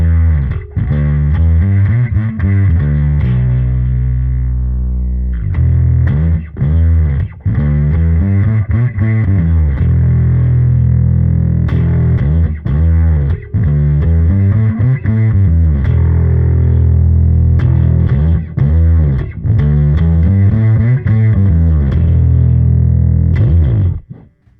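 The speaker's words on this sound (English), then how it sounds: "you've got this voice that sweeps between a distortion and more of a fuzz" Heavily distorted electric guitar run through a pedal whose voice sweeps between distortion and fuzz, loud sustained chords and riffs playing continuously with short pauses, no talking.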